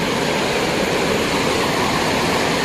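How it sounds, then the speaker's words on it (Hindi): A flooding river rushes past in a strong, steady roar of turbulent water, loud and close, without a break or any voices. "पानी का फ्लो देखिए आप कितना जबरदस्त पानी का फ्लो है"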